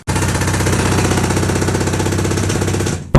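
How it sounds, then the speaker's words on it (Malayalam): Compressor-powered machinery breaks rock while digging a well, making a loud, continuous rapid hammering rattle that runs unbroken for about three seconds, then stops abruptly. "കംപ്രസറൊക്കെ അടക്കമുള്ള ഒരു മെഷീനറികളൊക്കെ ഉപയോഗിച്ചിട്ടുള്ള ഒരു അടിപൊളി കിണർ പണി"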